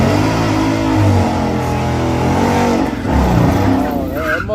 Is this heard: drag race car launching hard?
yes